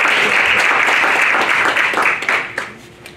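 Audience applause during an interview event about action sports, a dense wash of clapping that holds steady and then thins out and fades toward the end.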